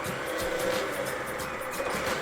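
Motorized Disney Cars race track around Radiator Springs, a Mattel set with Lightning McQueen, running on its battery motor: a steady, continuous whirring hum that stays level throughout with no pauses.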